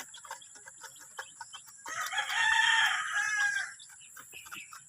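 Rhode Island chickens and their chicks on a farm, with repeated short peeps and clucks throughout and a loud, sustained crowing call in the middle, close by.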